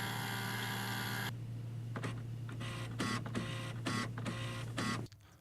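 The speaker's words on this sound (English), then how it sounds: "Wait for the printer to turn on and stop making noise." An HP Officejet 6500A Plus all-in-one inkjet printer powers on: a steady motor hum, then a run of mechanical whirs and clicks as the carriage and rollers move, ending abruptly in quiet.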